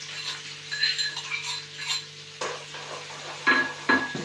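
A utensil stirs garlic and green chillies in a pan, with soft scraping and a few metallic clinks over a steady low hum, close and fairly quiet.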